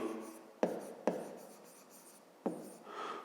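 Pen or pencil scratches softly on paper while working a fifth-grade maths exercise, a few sharp taps as strokes begin, quiet and close with no talking.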